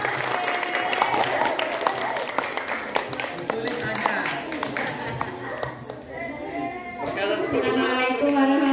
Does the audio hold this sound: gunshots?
no